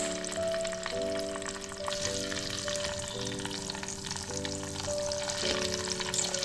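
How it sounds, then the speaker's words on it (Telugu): Tempering seeds frying in hot oil in a clay pot, a continuous crackling sizzle close up, with a repeating tonal hum layered over it and no speech. "మనం తాలింపు గింజలు వేసుకుంటున్నాం."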